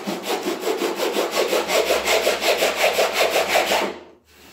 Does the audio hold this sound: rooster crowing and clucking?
no